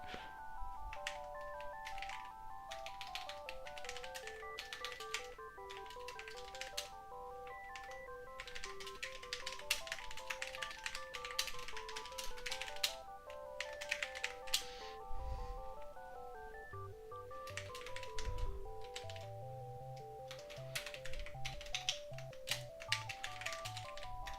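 Keys clatter steadily on a computer keyboard during book writing, quiet and continuous, accompanied throughout by a tonal beeping melody like background music or electronic chimes.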